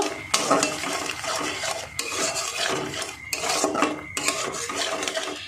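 A spoon scrapes and clatters repeatedly against a pan while sugar is mixed into a pointed gourd and peanut dish, in several rough rasping bursts with brief pauses, close and loud, with no talk.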